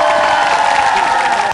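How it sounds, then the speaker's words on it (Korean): An audience bursts into brief, loud applause and cheering after a stage performance on instruments built in-house, a dense burst of clapping and whoops that cuts off abruptly. "다시 한번 박수 드립니다"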